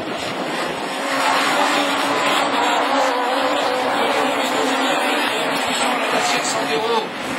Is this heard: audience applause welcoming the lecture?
no